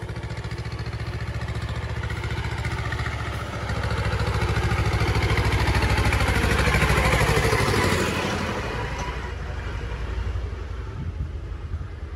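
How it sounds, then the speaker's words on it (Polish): A tractor engine runs at a steady idle close by outdoors, a continuous mid-pitched diesel chug with rattly clatter that swells louder midway before easing back, with no talk over it. "Ciągnik."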